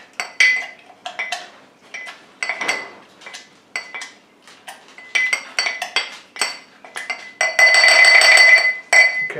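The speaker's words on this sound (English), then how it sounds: "Crush everything up real nice. Get those juices out of the lime. Bruise up those mint leaves." A wooden muddler crushes lime and mint leaves in a glass, giving repeated close, sharp clinks and grinding knocks in an uneven rhythm that grow denser toward the end, with no talking.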